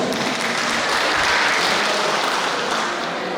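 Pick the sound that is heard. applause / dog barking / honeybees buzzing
applause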